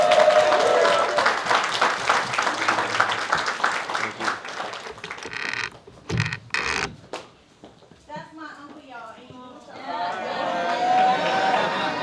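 A crowd at a tribute event for Earl D. Fowlkes Jr. bursts into applause and cheering, which breaks up midway with gaps and voices before clapping and cheers swell again near the end.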